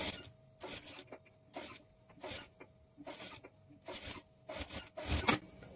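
A sewing machine stitches blouse sleeves onto a high-neck blouse body in about eight short, rattling bursts separated by quiet pauses, with a final louder run at the end.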